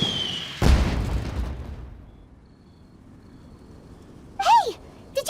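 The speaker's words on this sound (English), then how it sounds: "Did you hear that explosion?" A single heavy boom erupts early in a Genshin Impact scene and slowly rumbles away into quiet, followed near the end by a short burst of sharp, whistling, pitch-swooping sounds.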